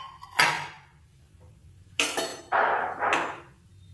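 A spoon clanks against a metal pot of chicken stew with green chillies, giving a few distinct metallic knocks and scrapes spaced across the moment, close by, with quiet pauses between.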